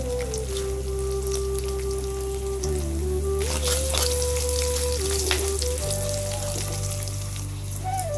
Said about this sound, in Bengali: জিরে আর শুকনো লঙ্কার ফোড়নটা দিয়ে দিচ্ছি।